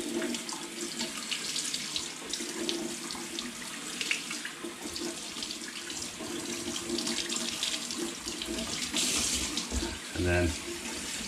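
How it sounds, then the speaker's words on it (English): Water runs steadily from a tap as a K&N air filter is rinsed from its clean side, a continuous splashing, hissing stream that holds a fairly even level throughout. "quick rinse from this side."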